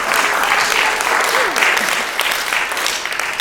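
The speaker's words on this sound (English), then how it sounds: "And quite rightly gets a round of applause from everybody" An audience at a Gwanwyn Clubs showcase event in Newport applauds Nia Thomas, a steady, dense round of clapping from many people that stays loud and even throughout.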